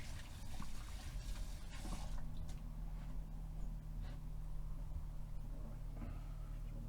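Running water trickling and splashing as food is rinsed in a narrowboat galley while preparing a roast chicken dinner, a soft continuous flow with occasional drips and clunks, fairly quiet and close.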